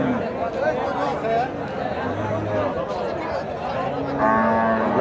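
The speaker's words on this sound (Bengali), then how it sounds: "যে অনেক গরু উঠেছে বড় বড়।" Cattle at a busy livestock market where large bulls are sold. Low lowing and a brief moo rise through constant crowd chatter and nearby voices, and the noise stays moderately loud and close throughout.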